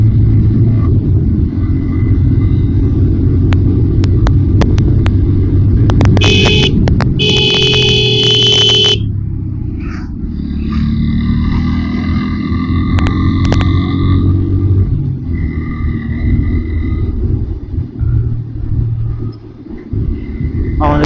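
Steady engine and road rumble from a vehicle driven along a tree-lined country road, loud and continuous, with bright tonal beeps or horn-like tones cutting in midway.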